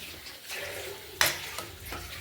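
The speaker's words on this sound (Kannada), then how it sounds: "ಮುಚ್ಚಬೇಡಿ ಹಾಗೆಯೇ ಫ್ರೈ ಮಾಡ್ಕೊಳ್ಳೋಣ" Grated carrot halwa fries in an open pan while a spoon stirs it, a continuous sizzle broken by a sharp metallic scrape of the utensil against the pan and a few softer knocks.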